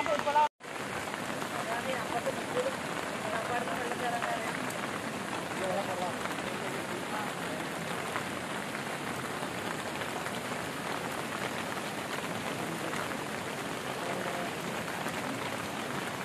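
Heavy rain falls steadily and loudly as a dense, continuous hiss, with houses in the area flooded, after a brief dropout at the very start.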